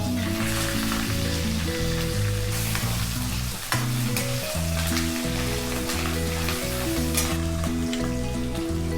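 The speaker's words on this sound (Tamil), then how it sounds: "நல்ல எண்ணெய் நல்லா ஹீட் அடித்து நம்ம கடுகு தாளிப்பு சேர்த்துடலாம்" Steady, loud sizzling and crackling of mustard seeds and urad dal frying in hot sesame oil, continuous throughout with occasional sharper pops.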